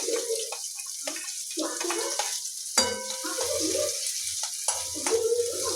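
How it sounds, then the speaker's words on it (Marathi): Onions sauté in a pan with garlic and curry leaves for hadga flower bhaji, making a soft sizzle broken by repeated scraping and clattering strokes as they are stirred close by. "कांदे परतून घ्यायचे आहेत चांगले।"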